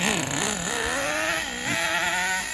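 A Team Associated RC10GT nitro RC car engine runs with a buzzing, wavering whine that rises and falls as the throttle changes, steady and fairly close throughout.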